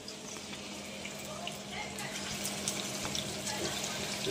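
Crab pakoda frying in hot oil over a lowered gas flame, giving a steady, dense crackle and hiss that grows slightly louder as it goes on, heard close with no voices.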